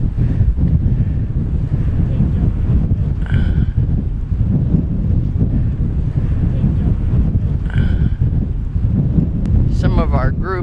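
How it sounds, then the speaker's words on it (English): Strong wind buffets the microphone at Briksdal Glacier in Norway, a loud, steady roar with gusting rumble lasting throughout, with no voices heard. "It is incredibly windy here."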